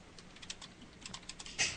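Typing on a computer keyboard, a quick run of light clicking keystrokes at close range, faint and uneven in rhythm, with one slightly louder key press near the end and no talk.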